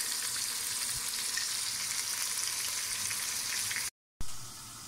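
Meat frying in oil in a kazan for Kazakh palau, a steady close sizzling hiss that runs evenly, briefly cut to silence near the end before resuming.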